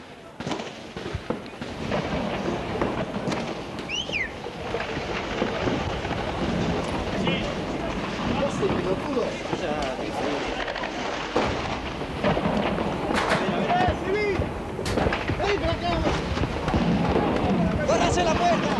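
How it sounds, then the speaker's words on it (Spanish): Rapid, dense bursts of rifle and pistol fire crackle continuously with heavy booming mortar blasts mixed in, loud and chaotic, with voices shouting underneath. "Es impresionante la cantidad de disparos que se están efectuando en este momento."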